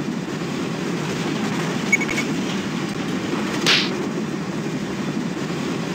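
A steady, continuous train rumble from the PowerPuff Girls Gamesville PC game runs throughout, with a brief sharp click or whip-like snap partway through.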